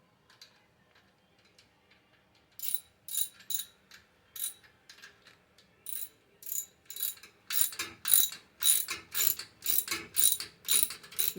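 Hand ratchet tightening the clamp of a chrome exhaust tip on a 2023 Toyota Tacoma: after a quiet start, a steady run of loud, close clicking strokes that grows busier and more forceful toward the end, with no voices.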